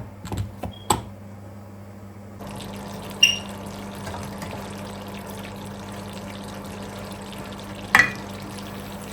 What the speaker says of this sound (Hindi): देखें अब इसे हमने भून लिया मीडियम फ्लेम के ऊपर ही